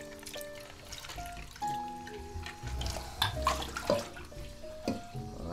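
Tap water runs steadily to rinse developed 35mm film at home, the water kept near 20 degrees. A soft trickle and splashes are heard close by, with faint melodic tones underneath.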